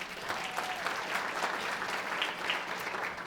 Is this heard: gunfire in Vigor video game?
no